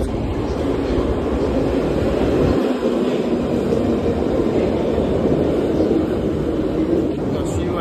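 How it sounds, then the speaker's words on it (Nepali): A steady low rumble of a train arriving toward Green Park fills the space, continuous and broad, with a muffled voice speaking briefly underneath. "ट्रेन आउँदैछ रहेछ यही ट्रेनमा जान्छु"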